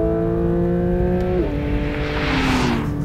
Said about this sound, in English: 4-litre flat six, no turbos, just natural aspiration and a beautiful noise.